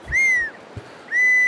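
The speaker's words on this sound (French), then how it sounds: "Ah, mais c'est le sifflet pour le chien" A dog whistle in the Open Country survival game gives two sustained high, steady tones, each lasting about a third of a second and separated by a short gap, clear and alone with no other sound.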